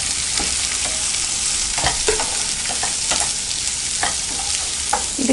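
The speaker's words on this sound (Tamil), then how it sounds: "இப்போ நம்ம வெங்காயம், பச்சை மிளகாய், கருவேப்பிலை இது அப்படியே நம்ம ஆட் பண்ணிக்கலாம்." Onion, green chilli and curry leaves frying in hot oil for kara santhagai, a steady close sizzle with repeated scraping stirs of a spoon in the pan, no voices.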